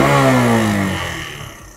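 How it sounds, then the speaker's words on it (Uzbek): An original Suzuki motorcycle engine is revved hard up close, its loud tone sweeping downward and then fading as the throttle is released. "Endi gaz berib ko'ramiz."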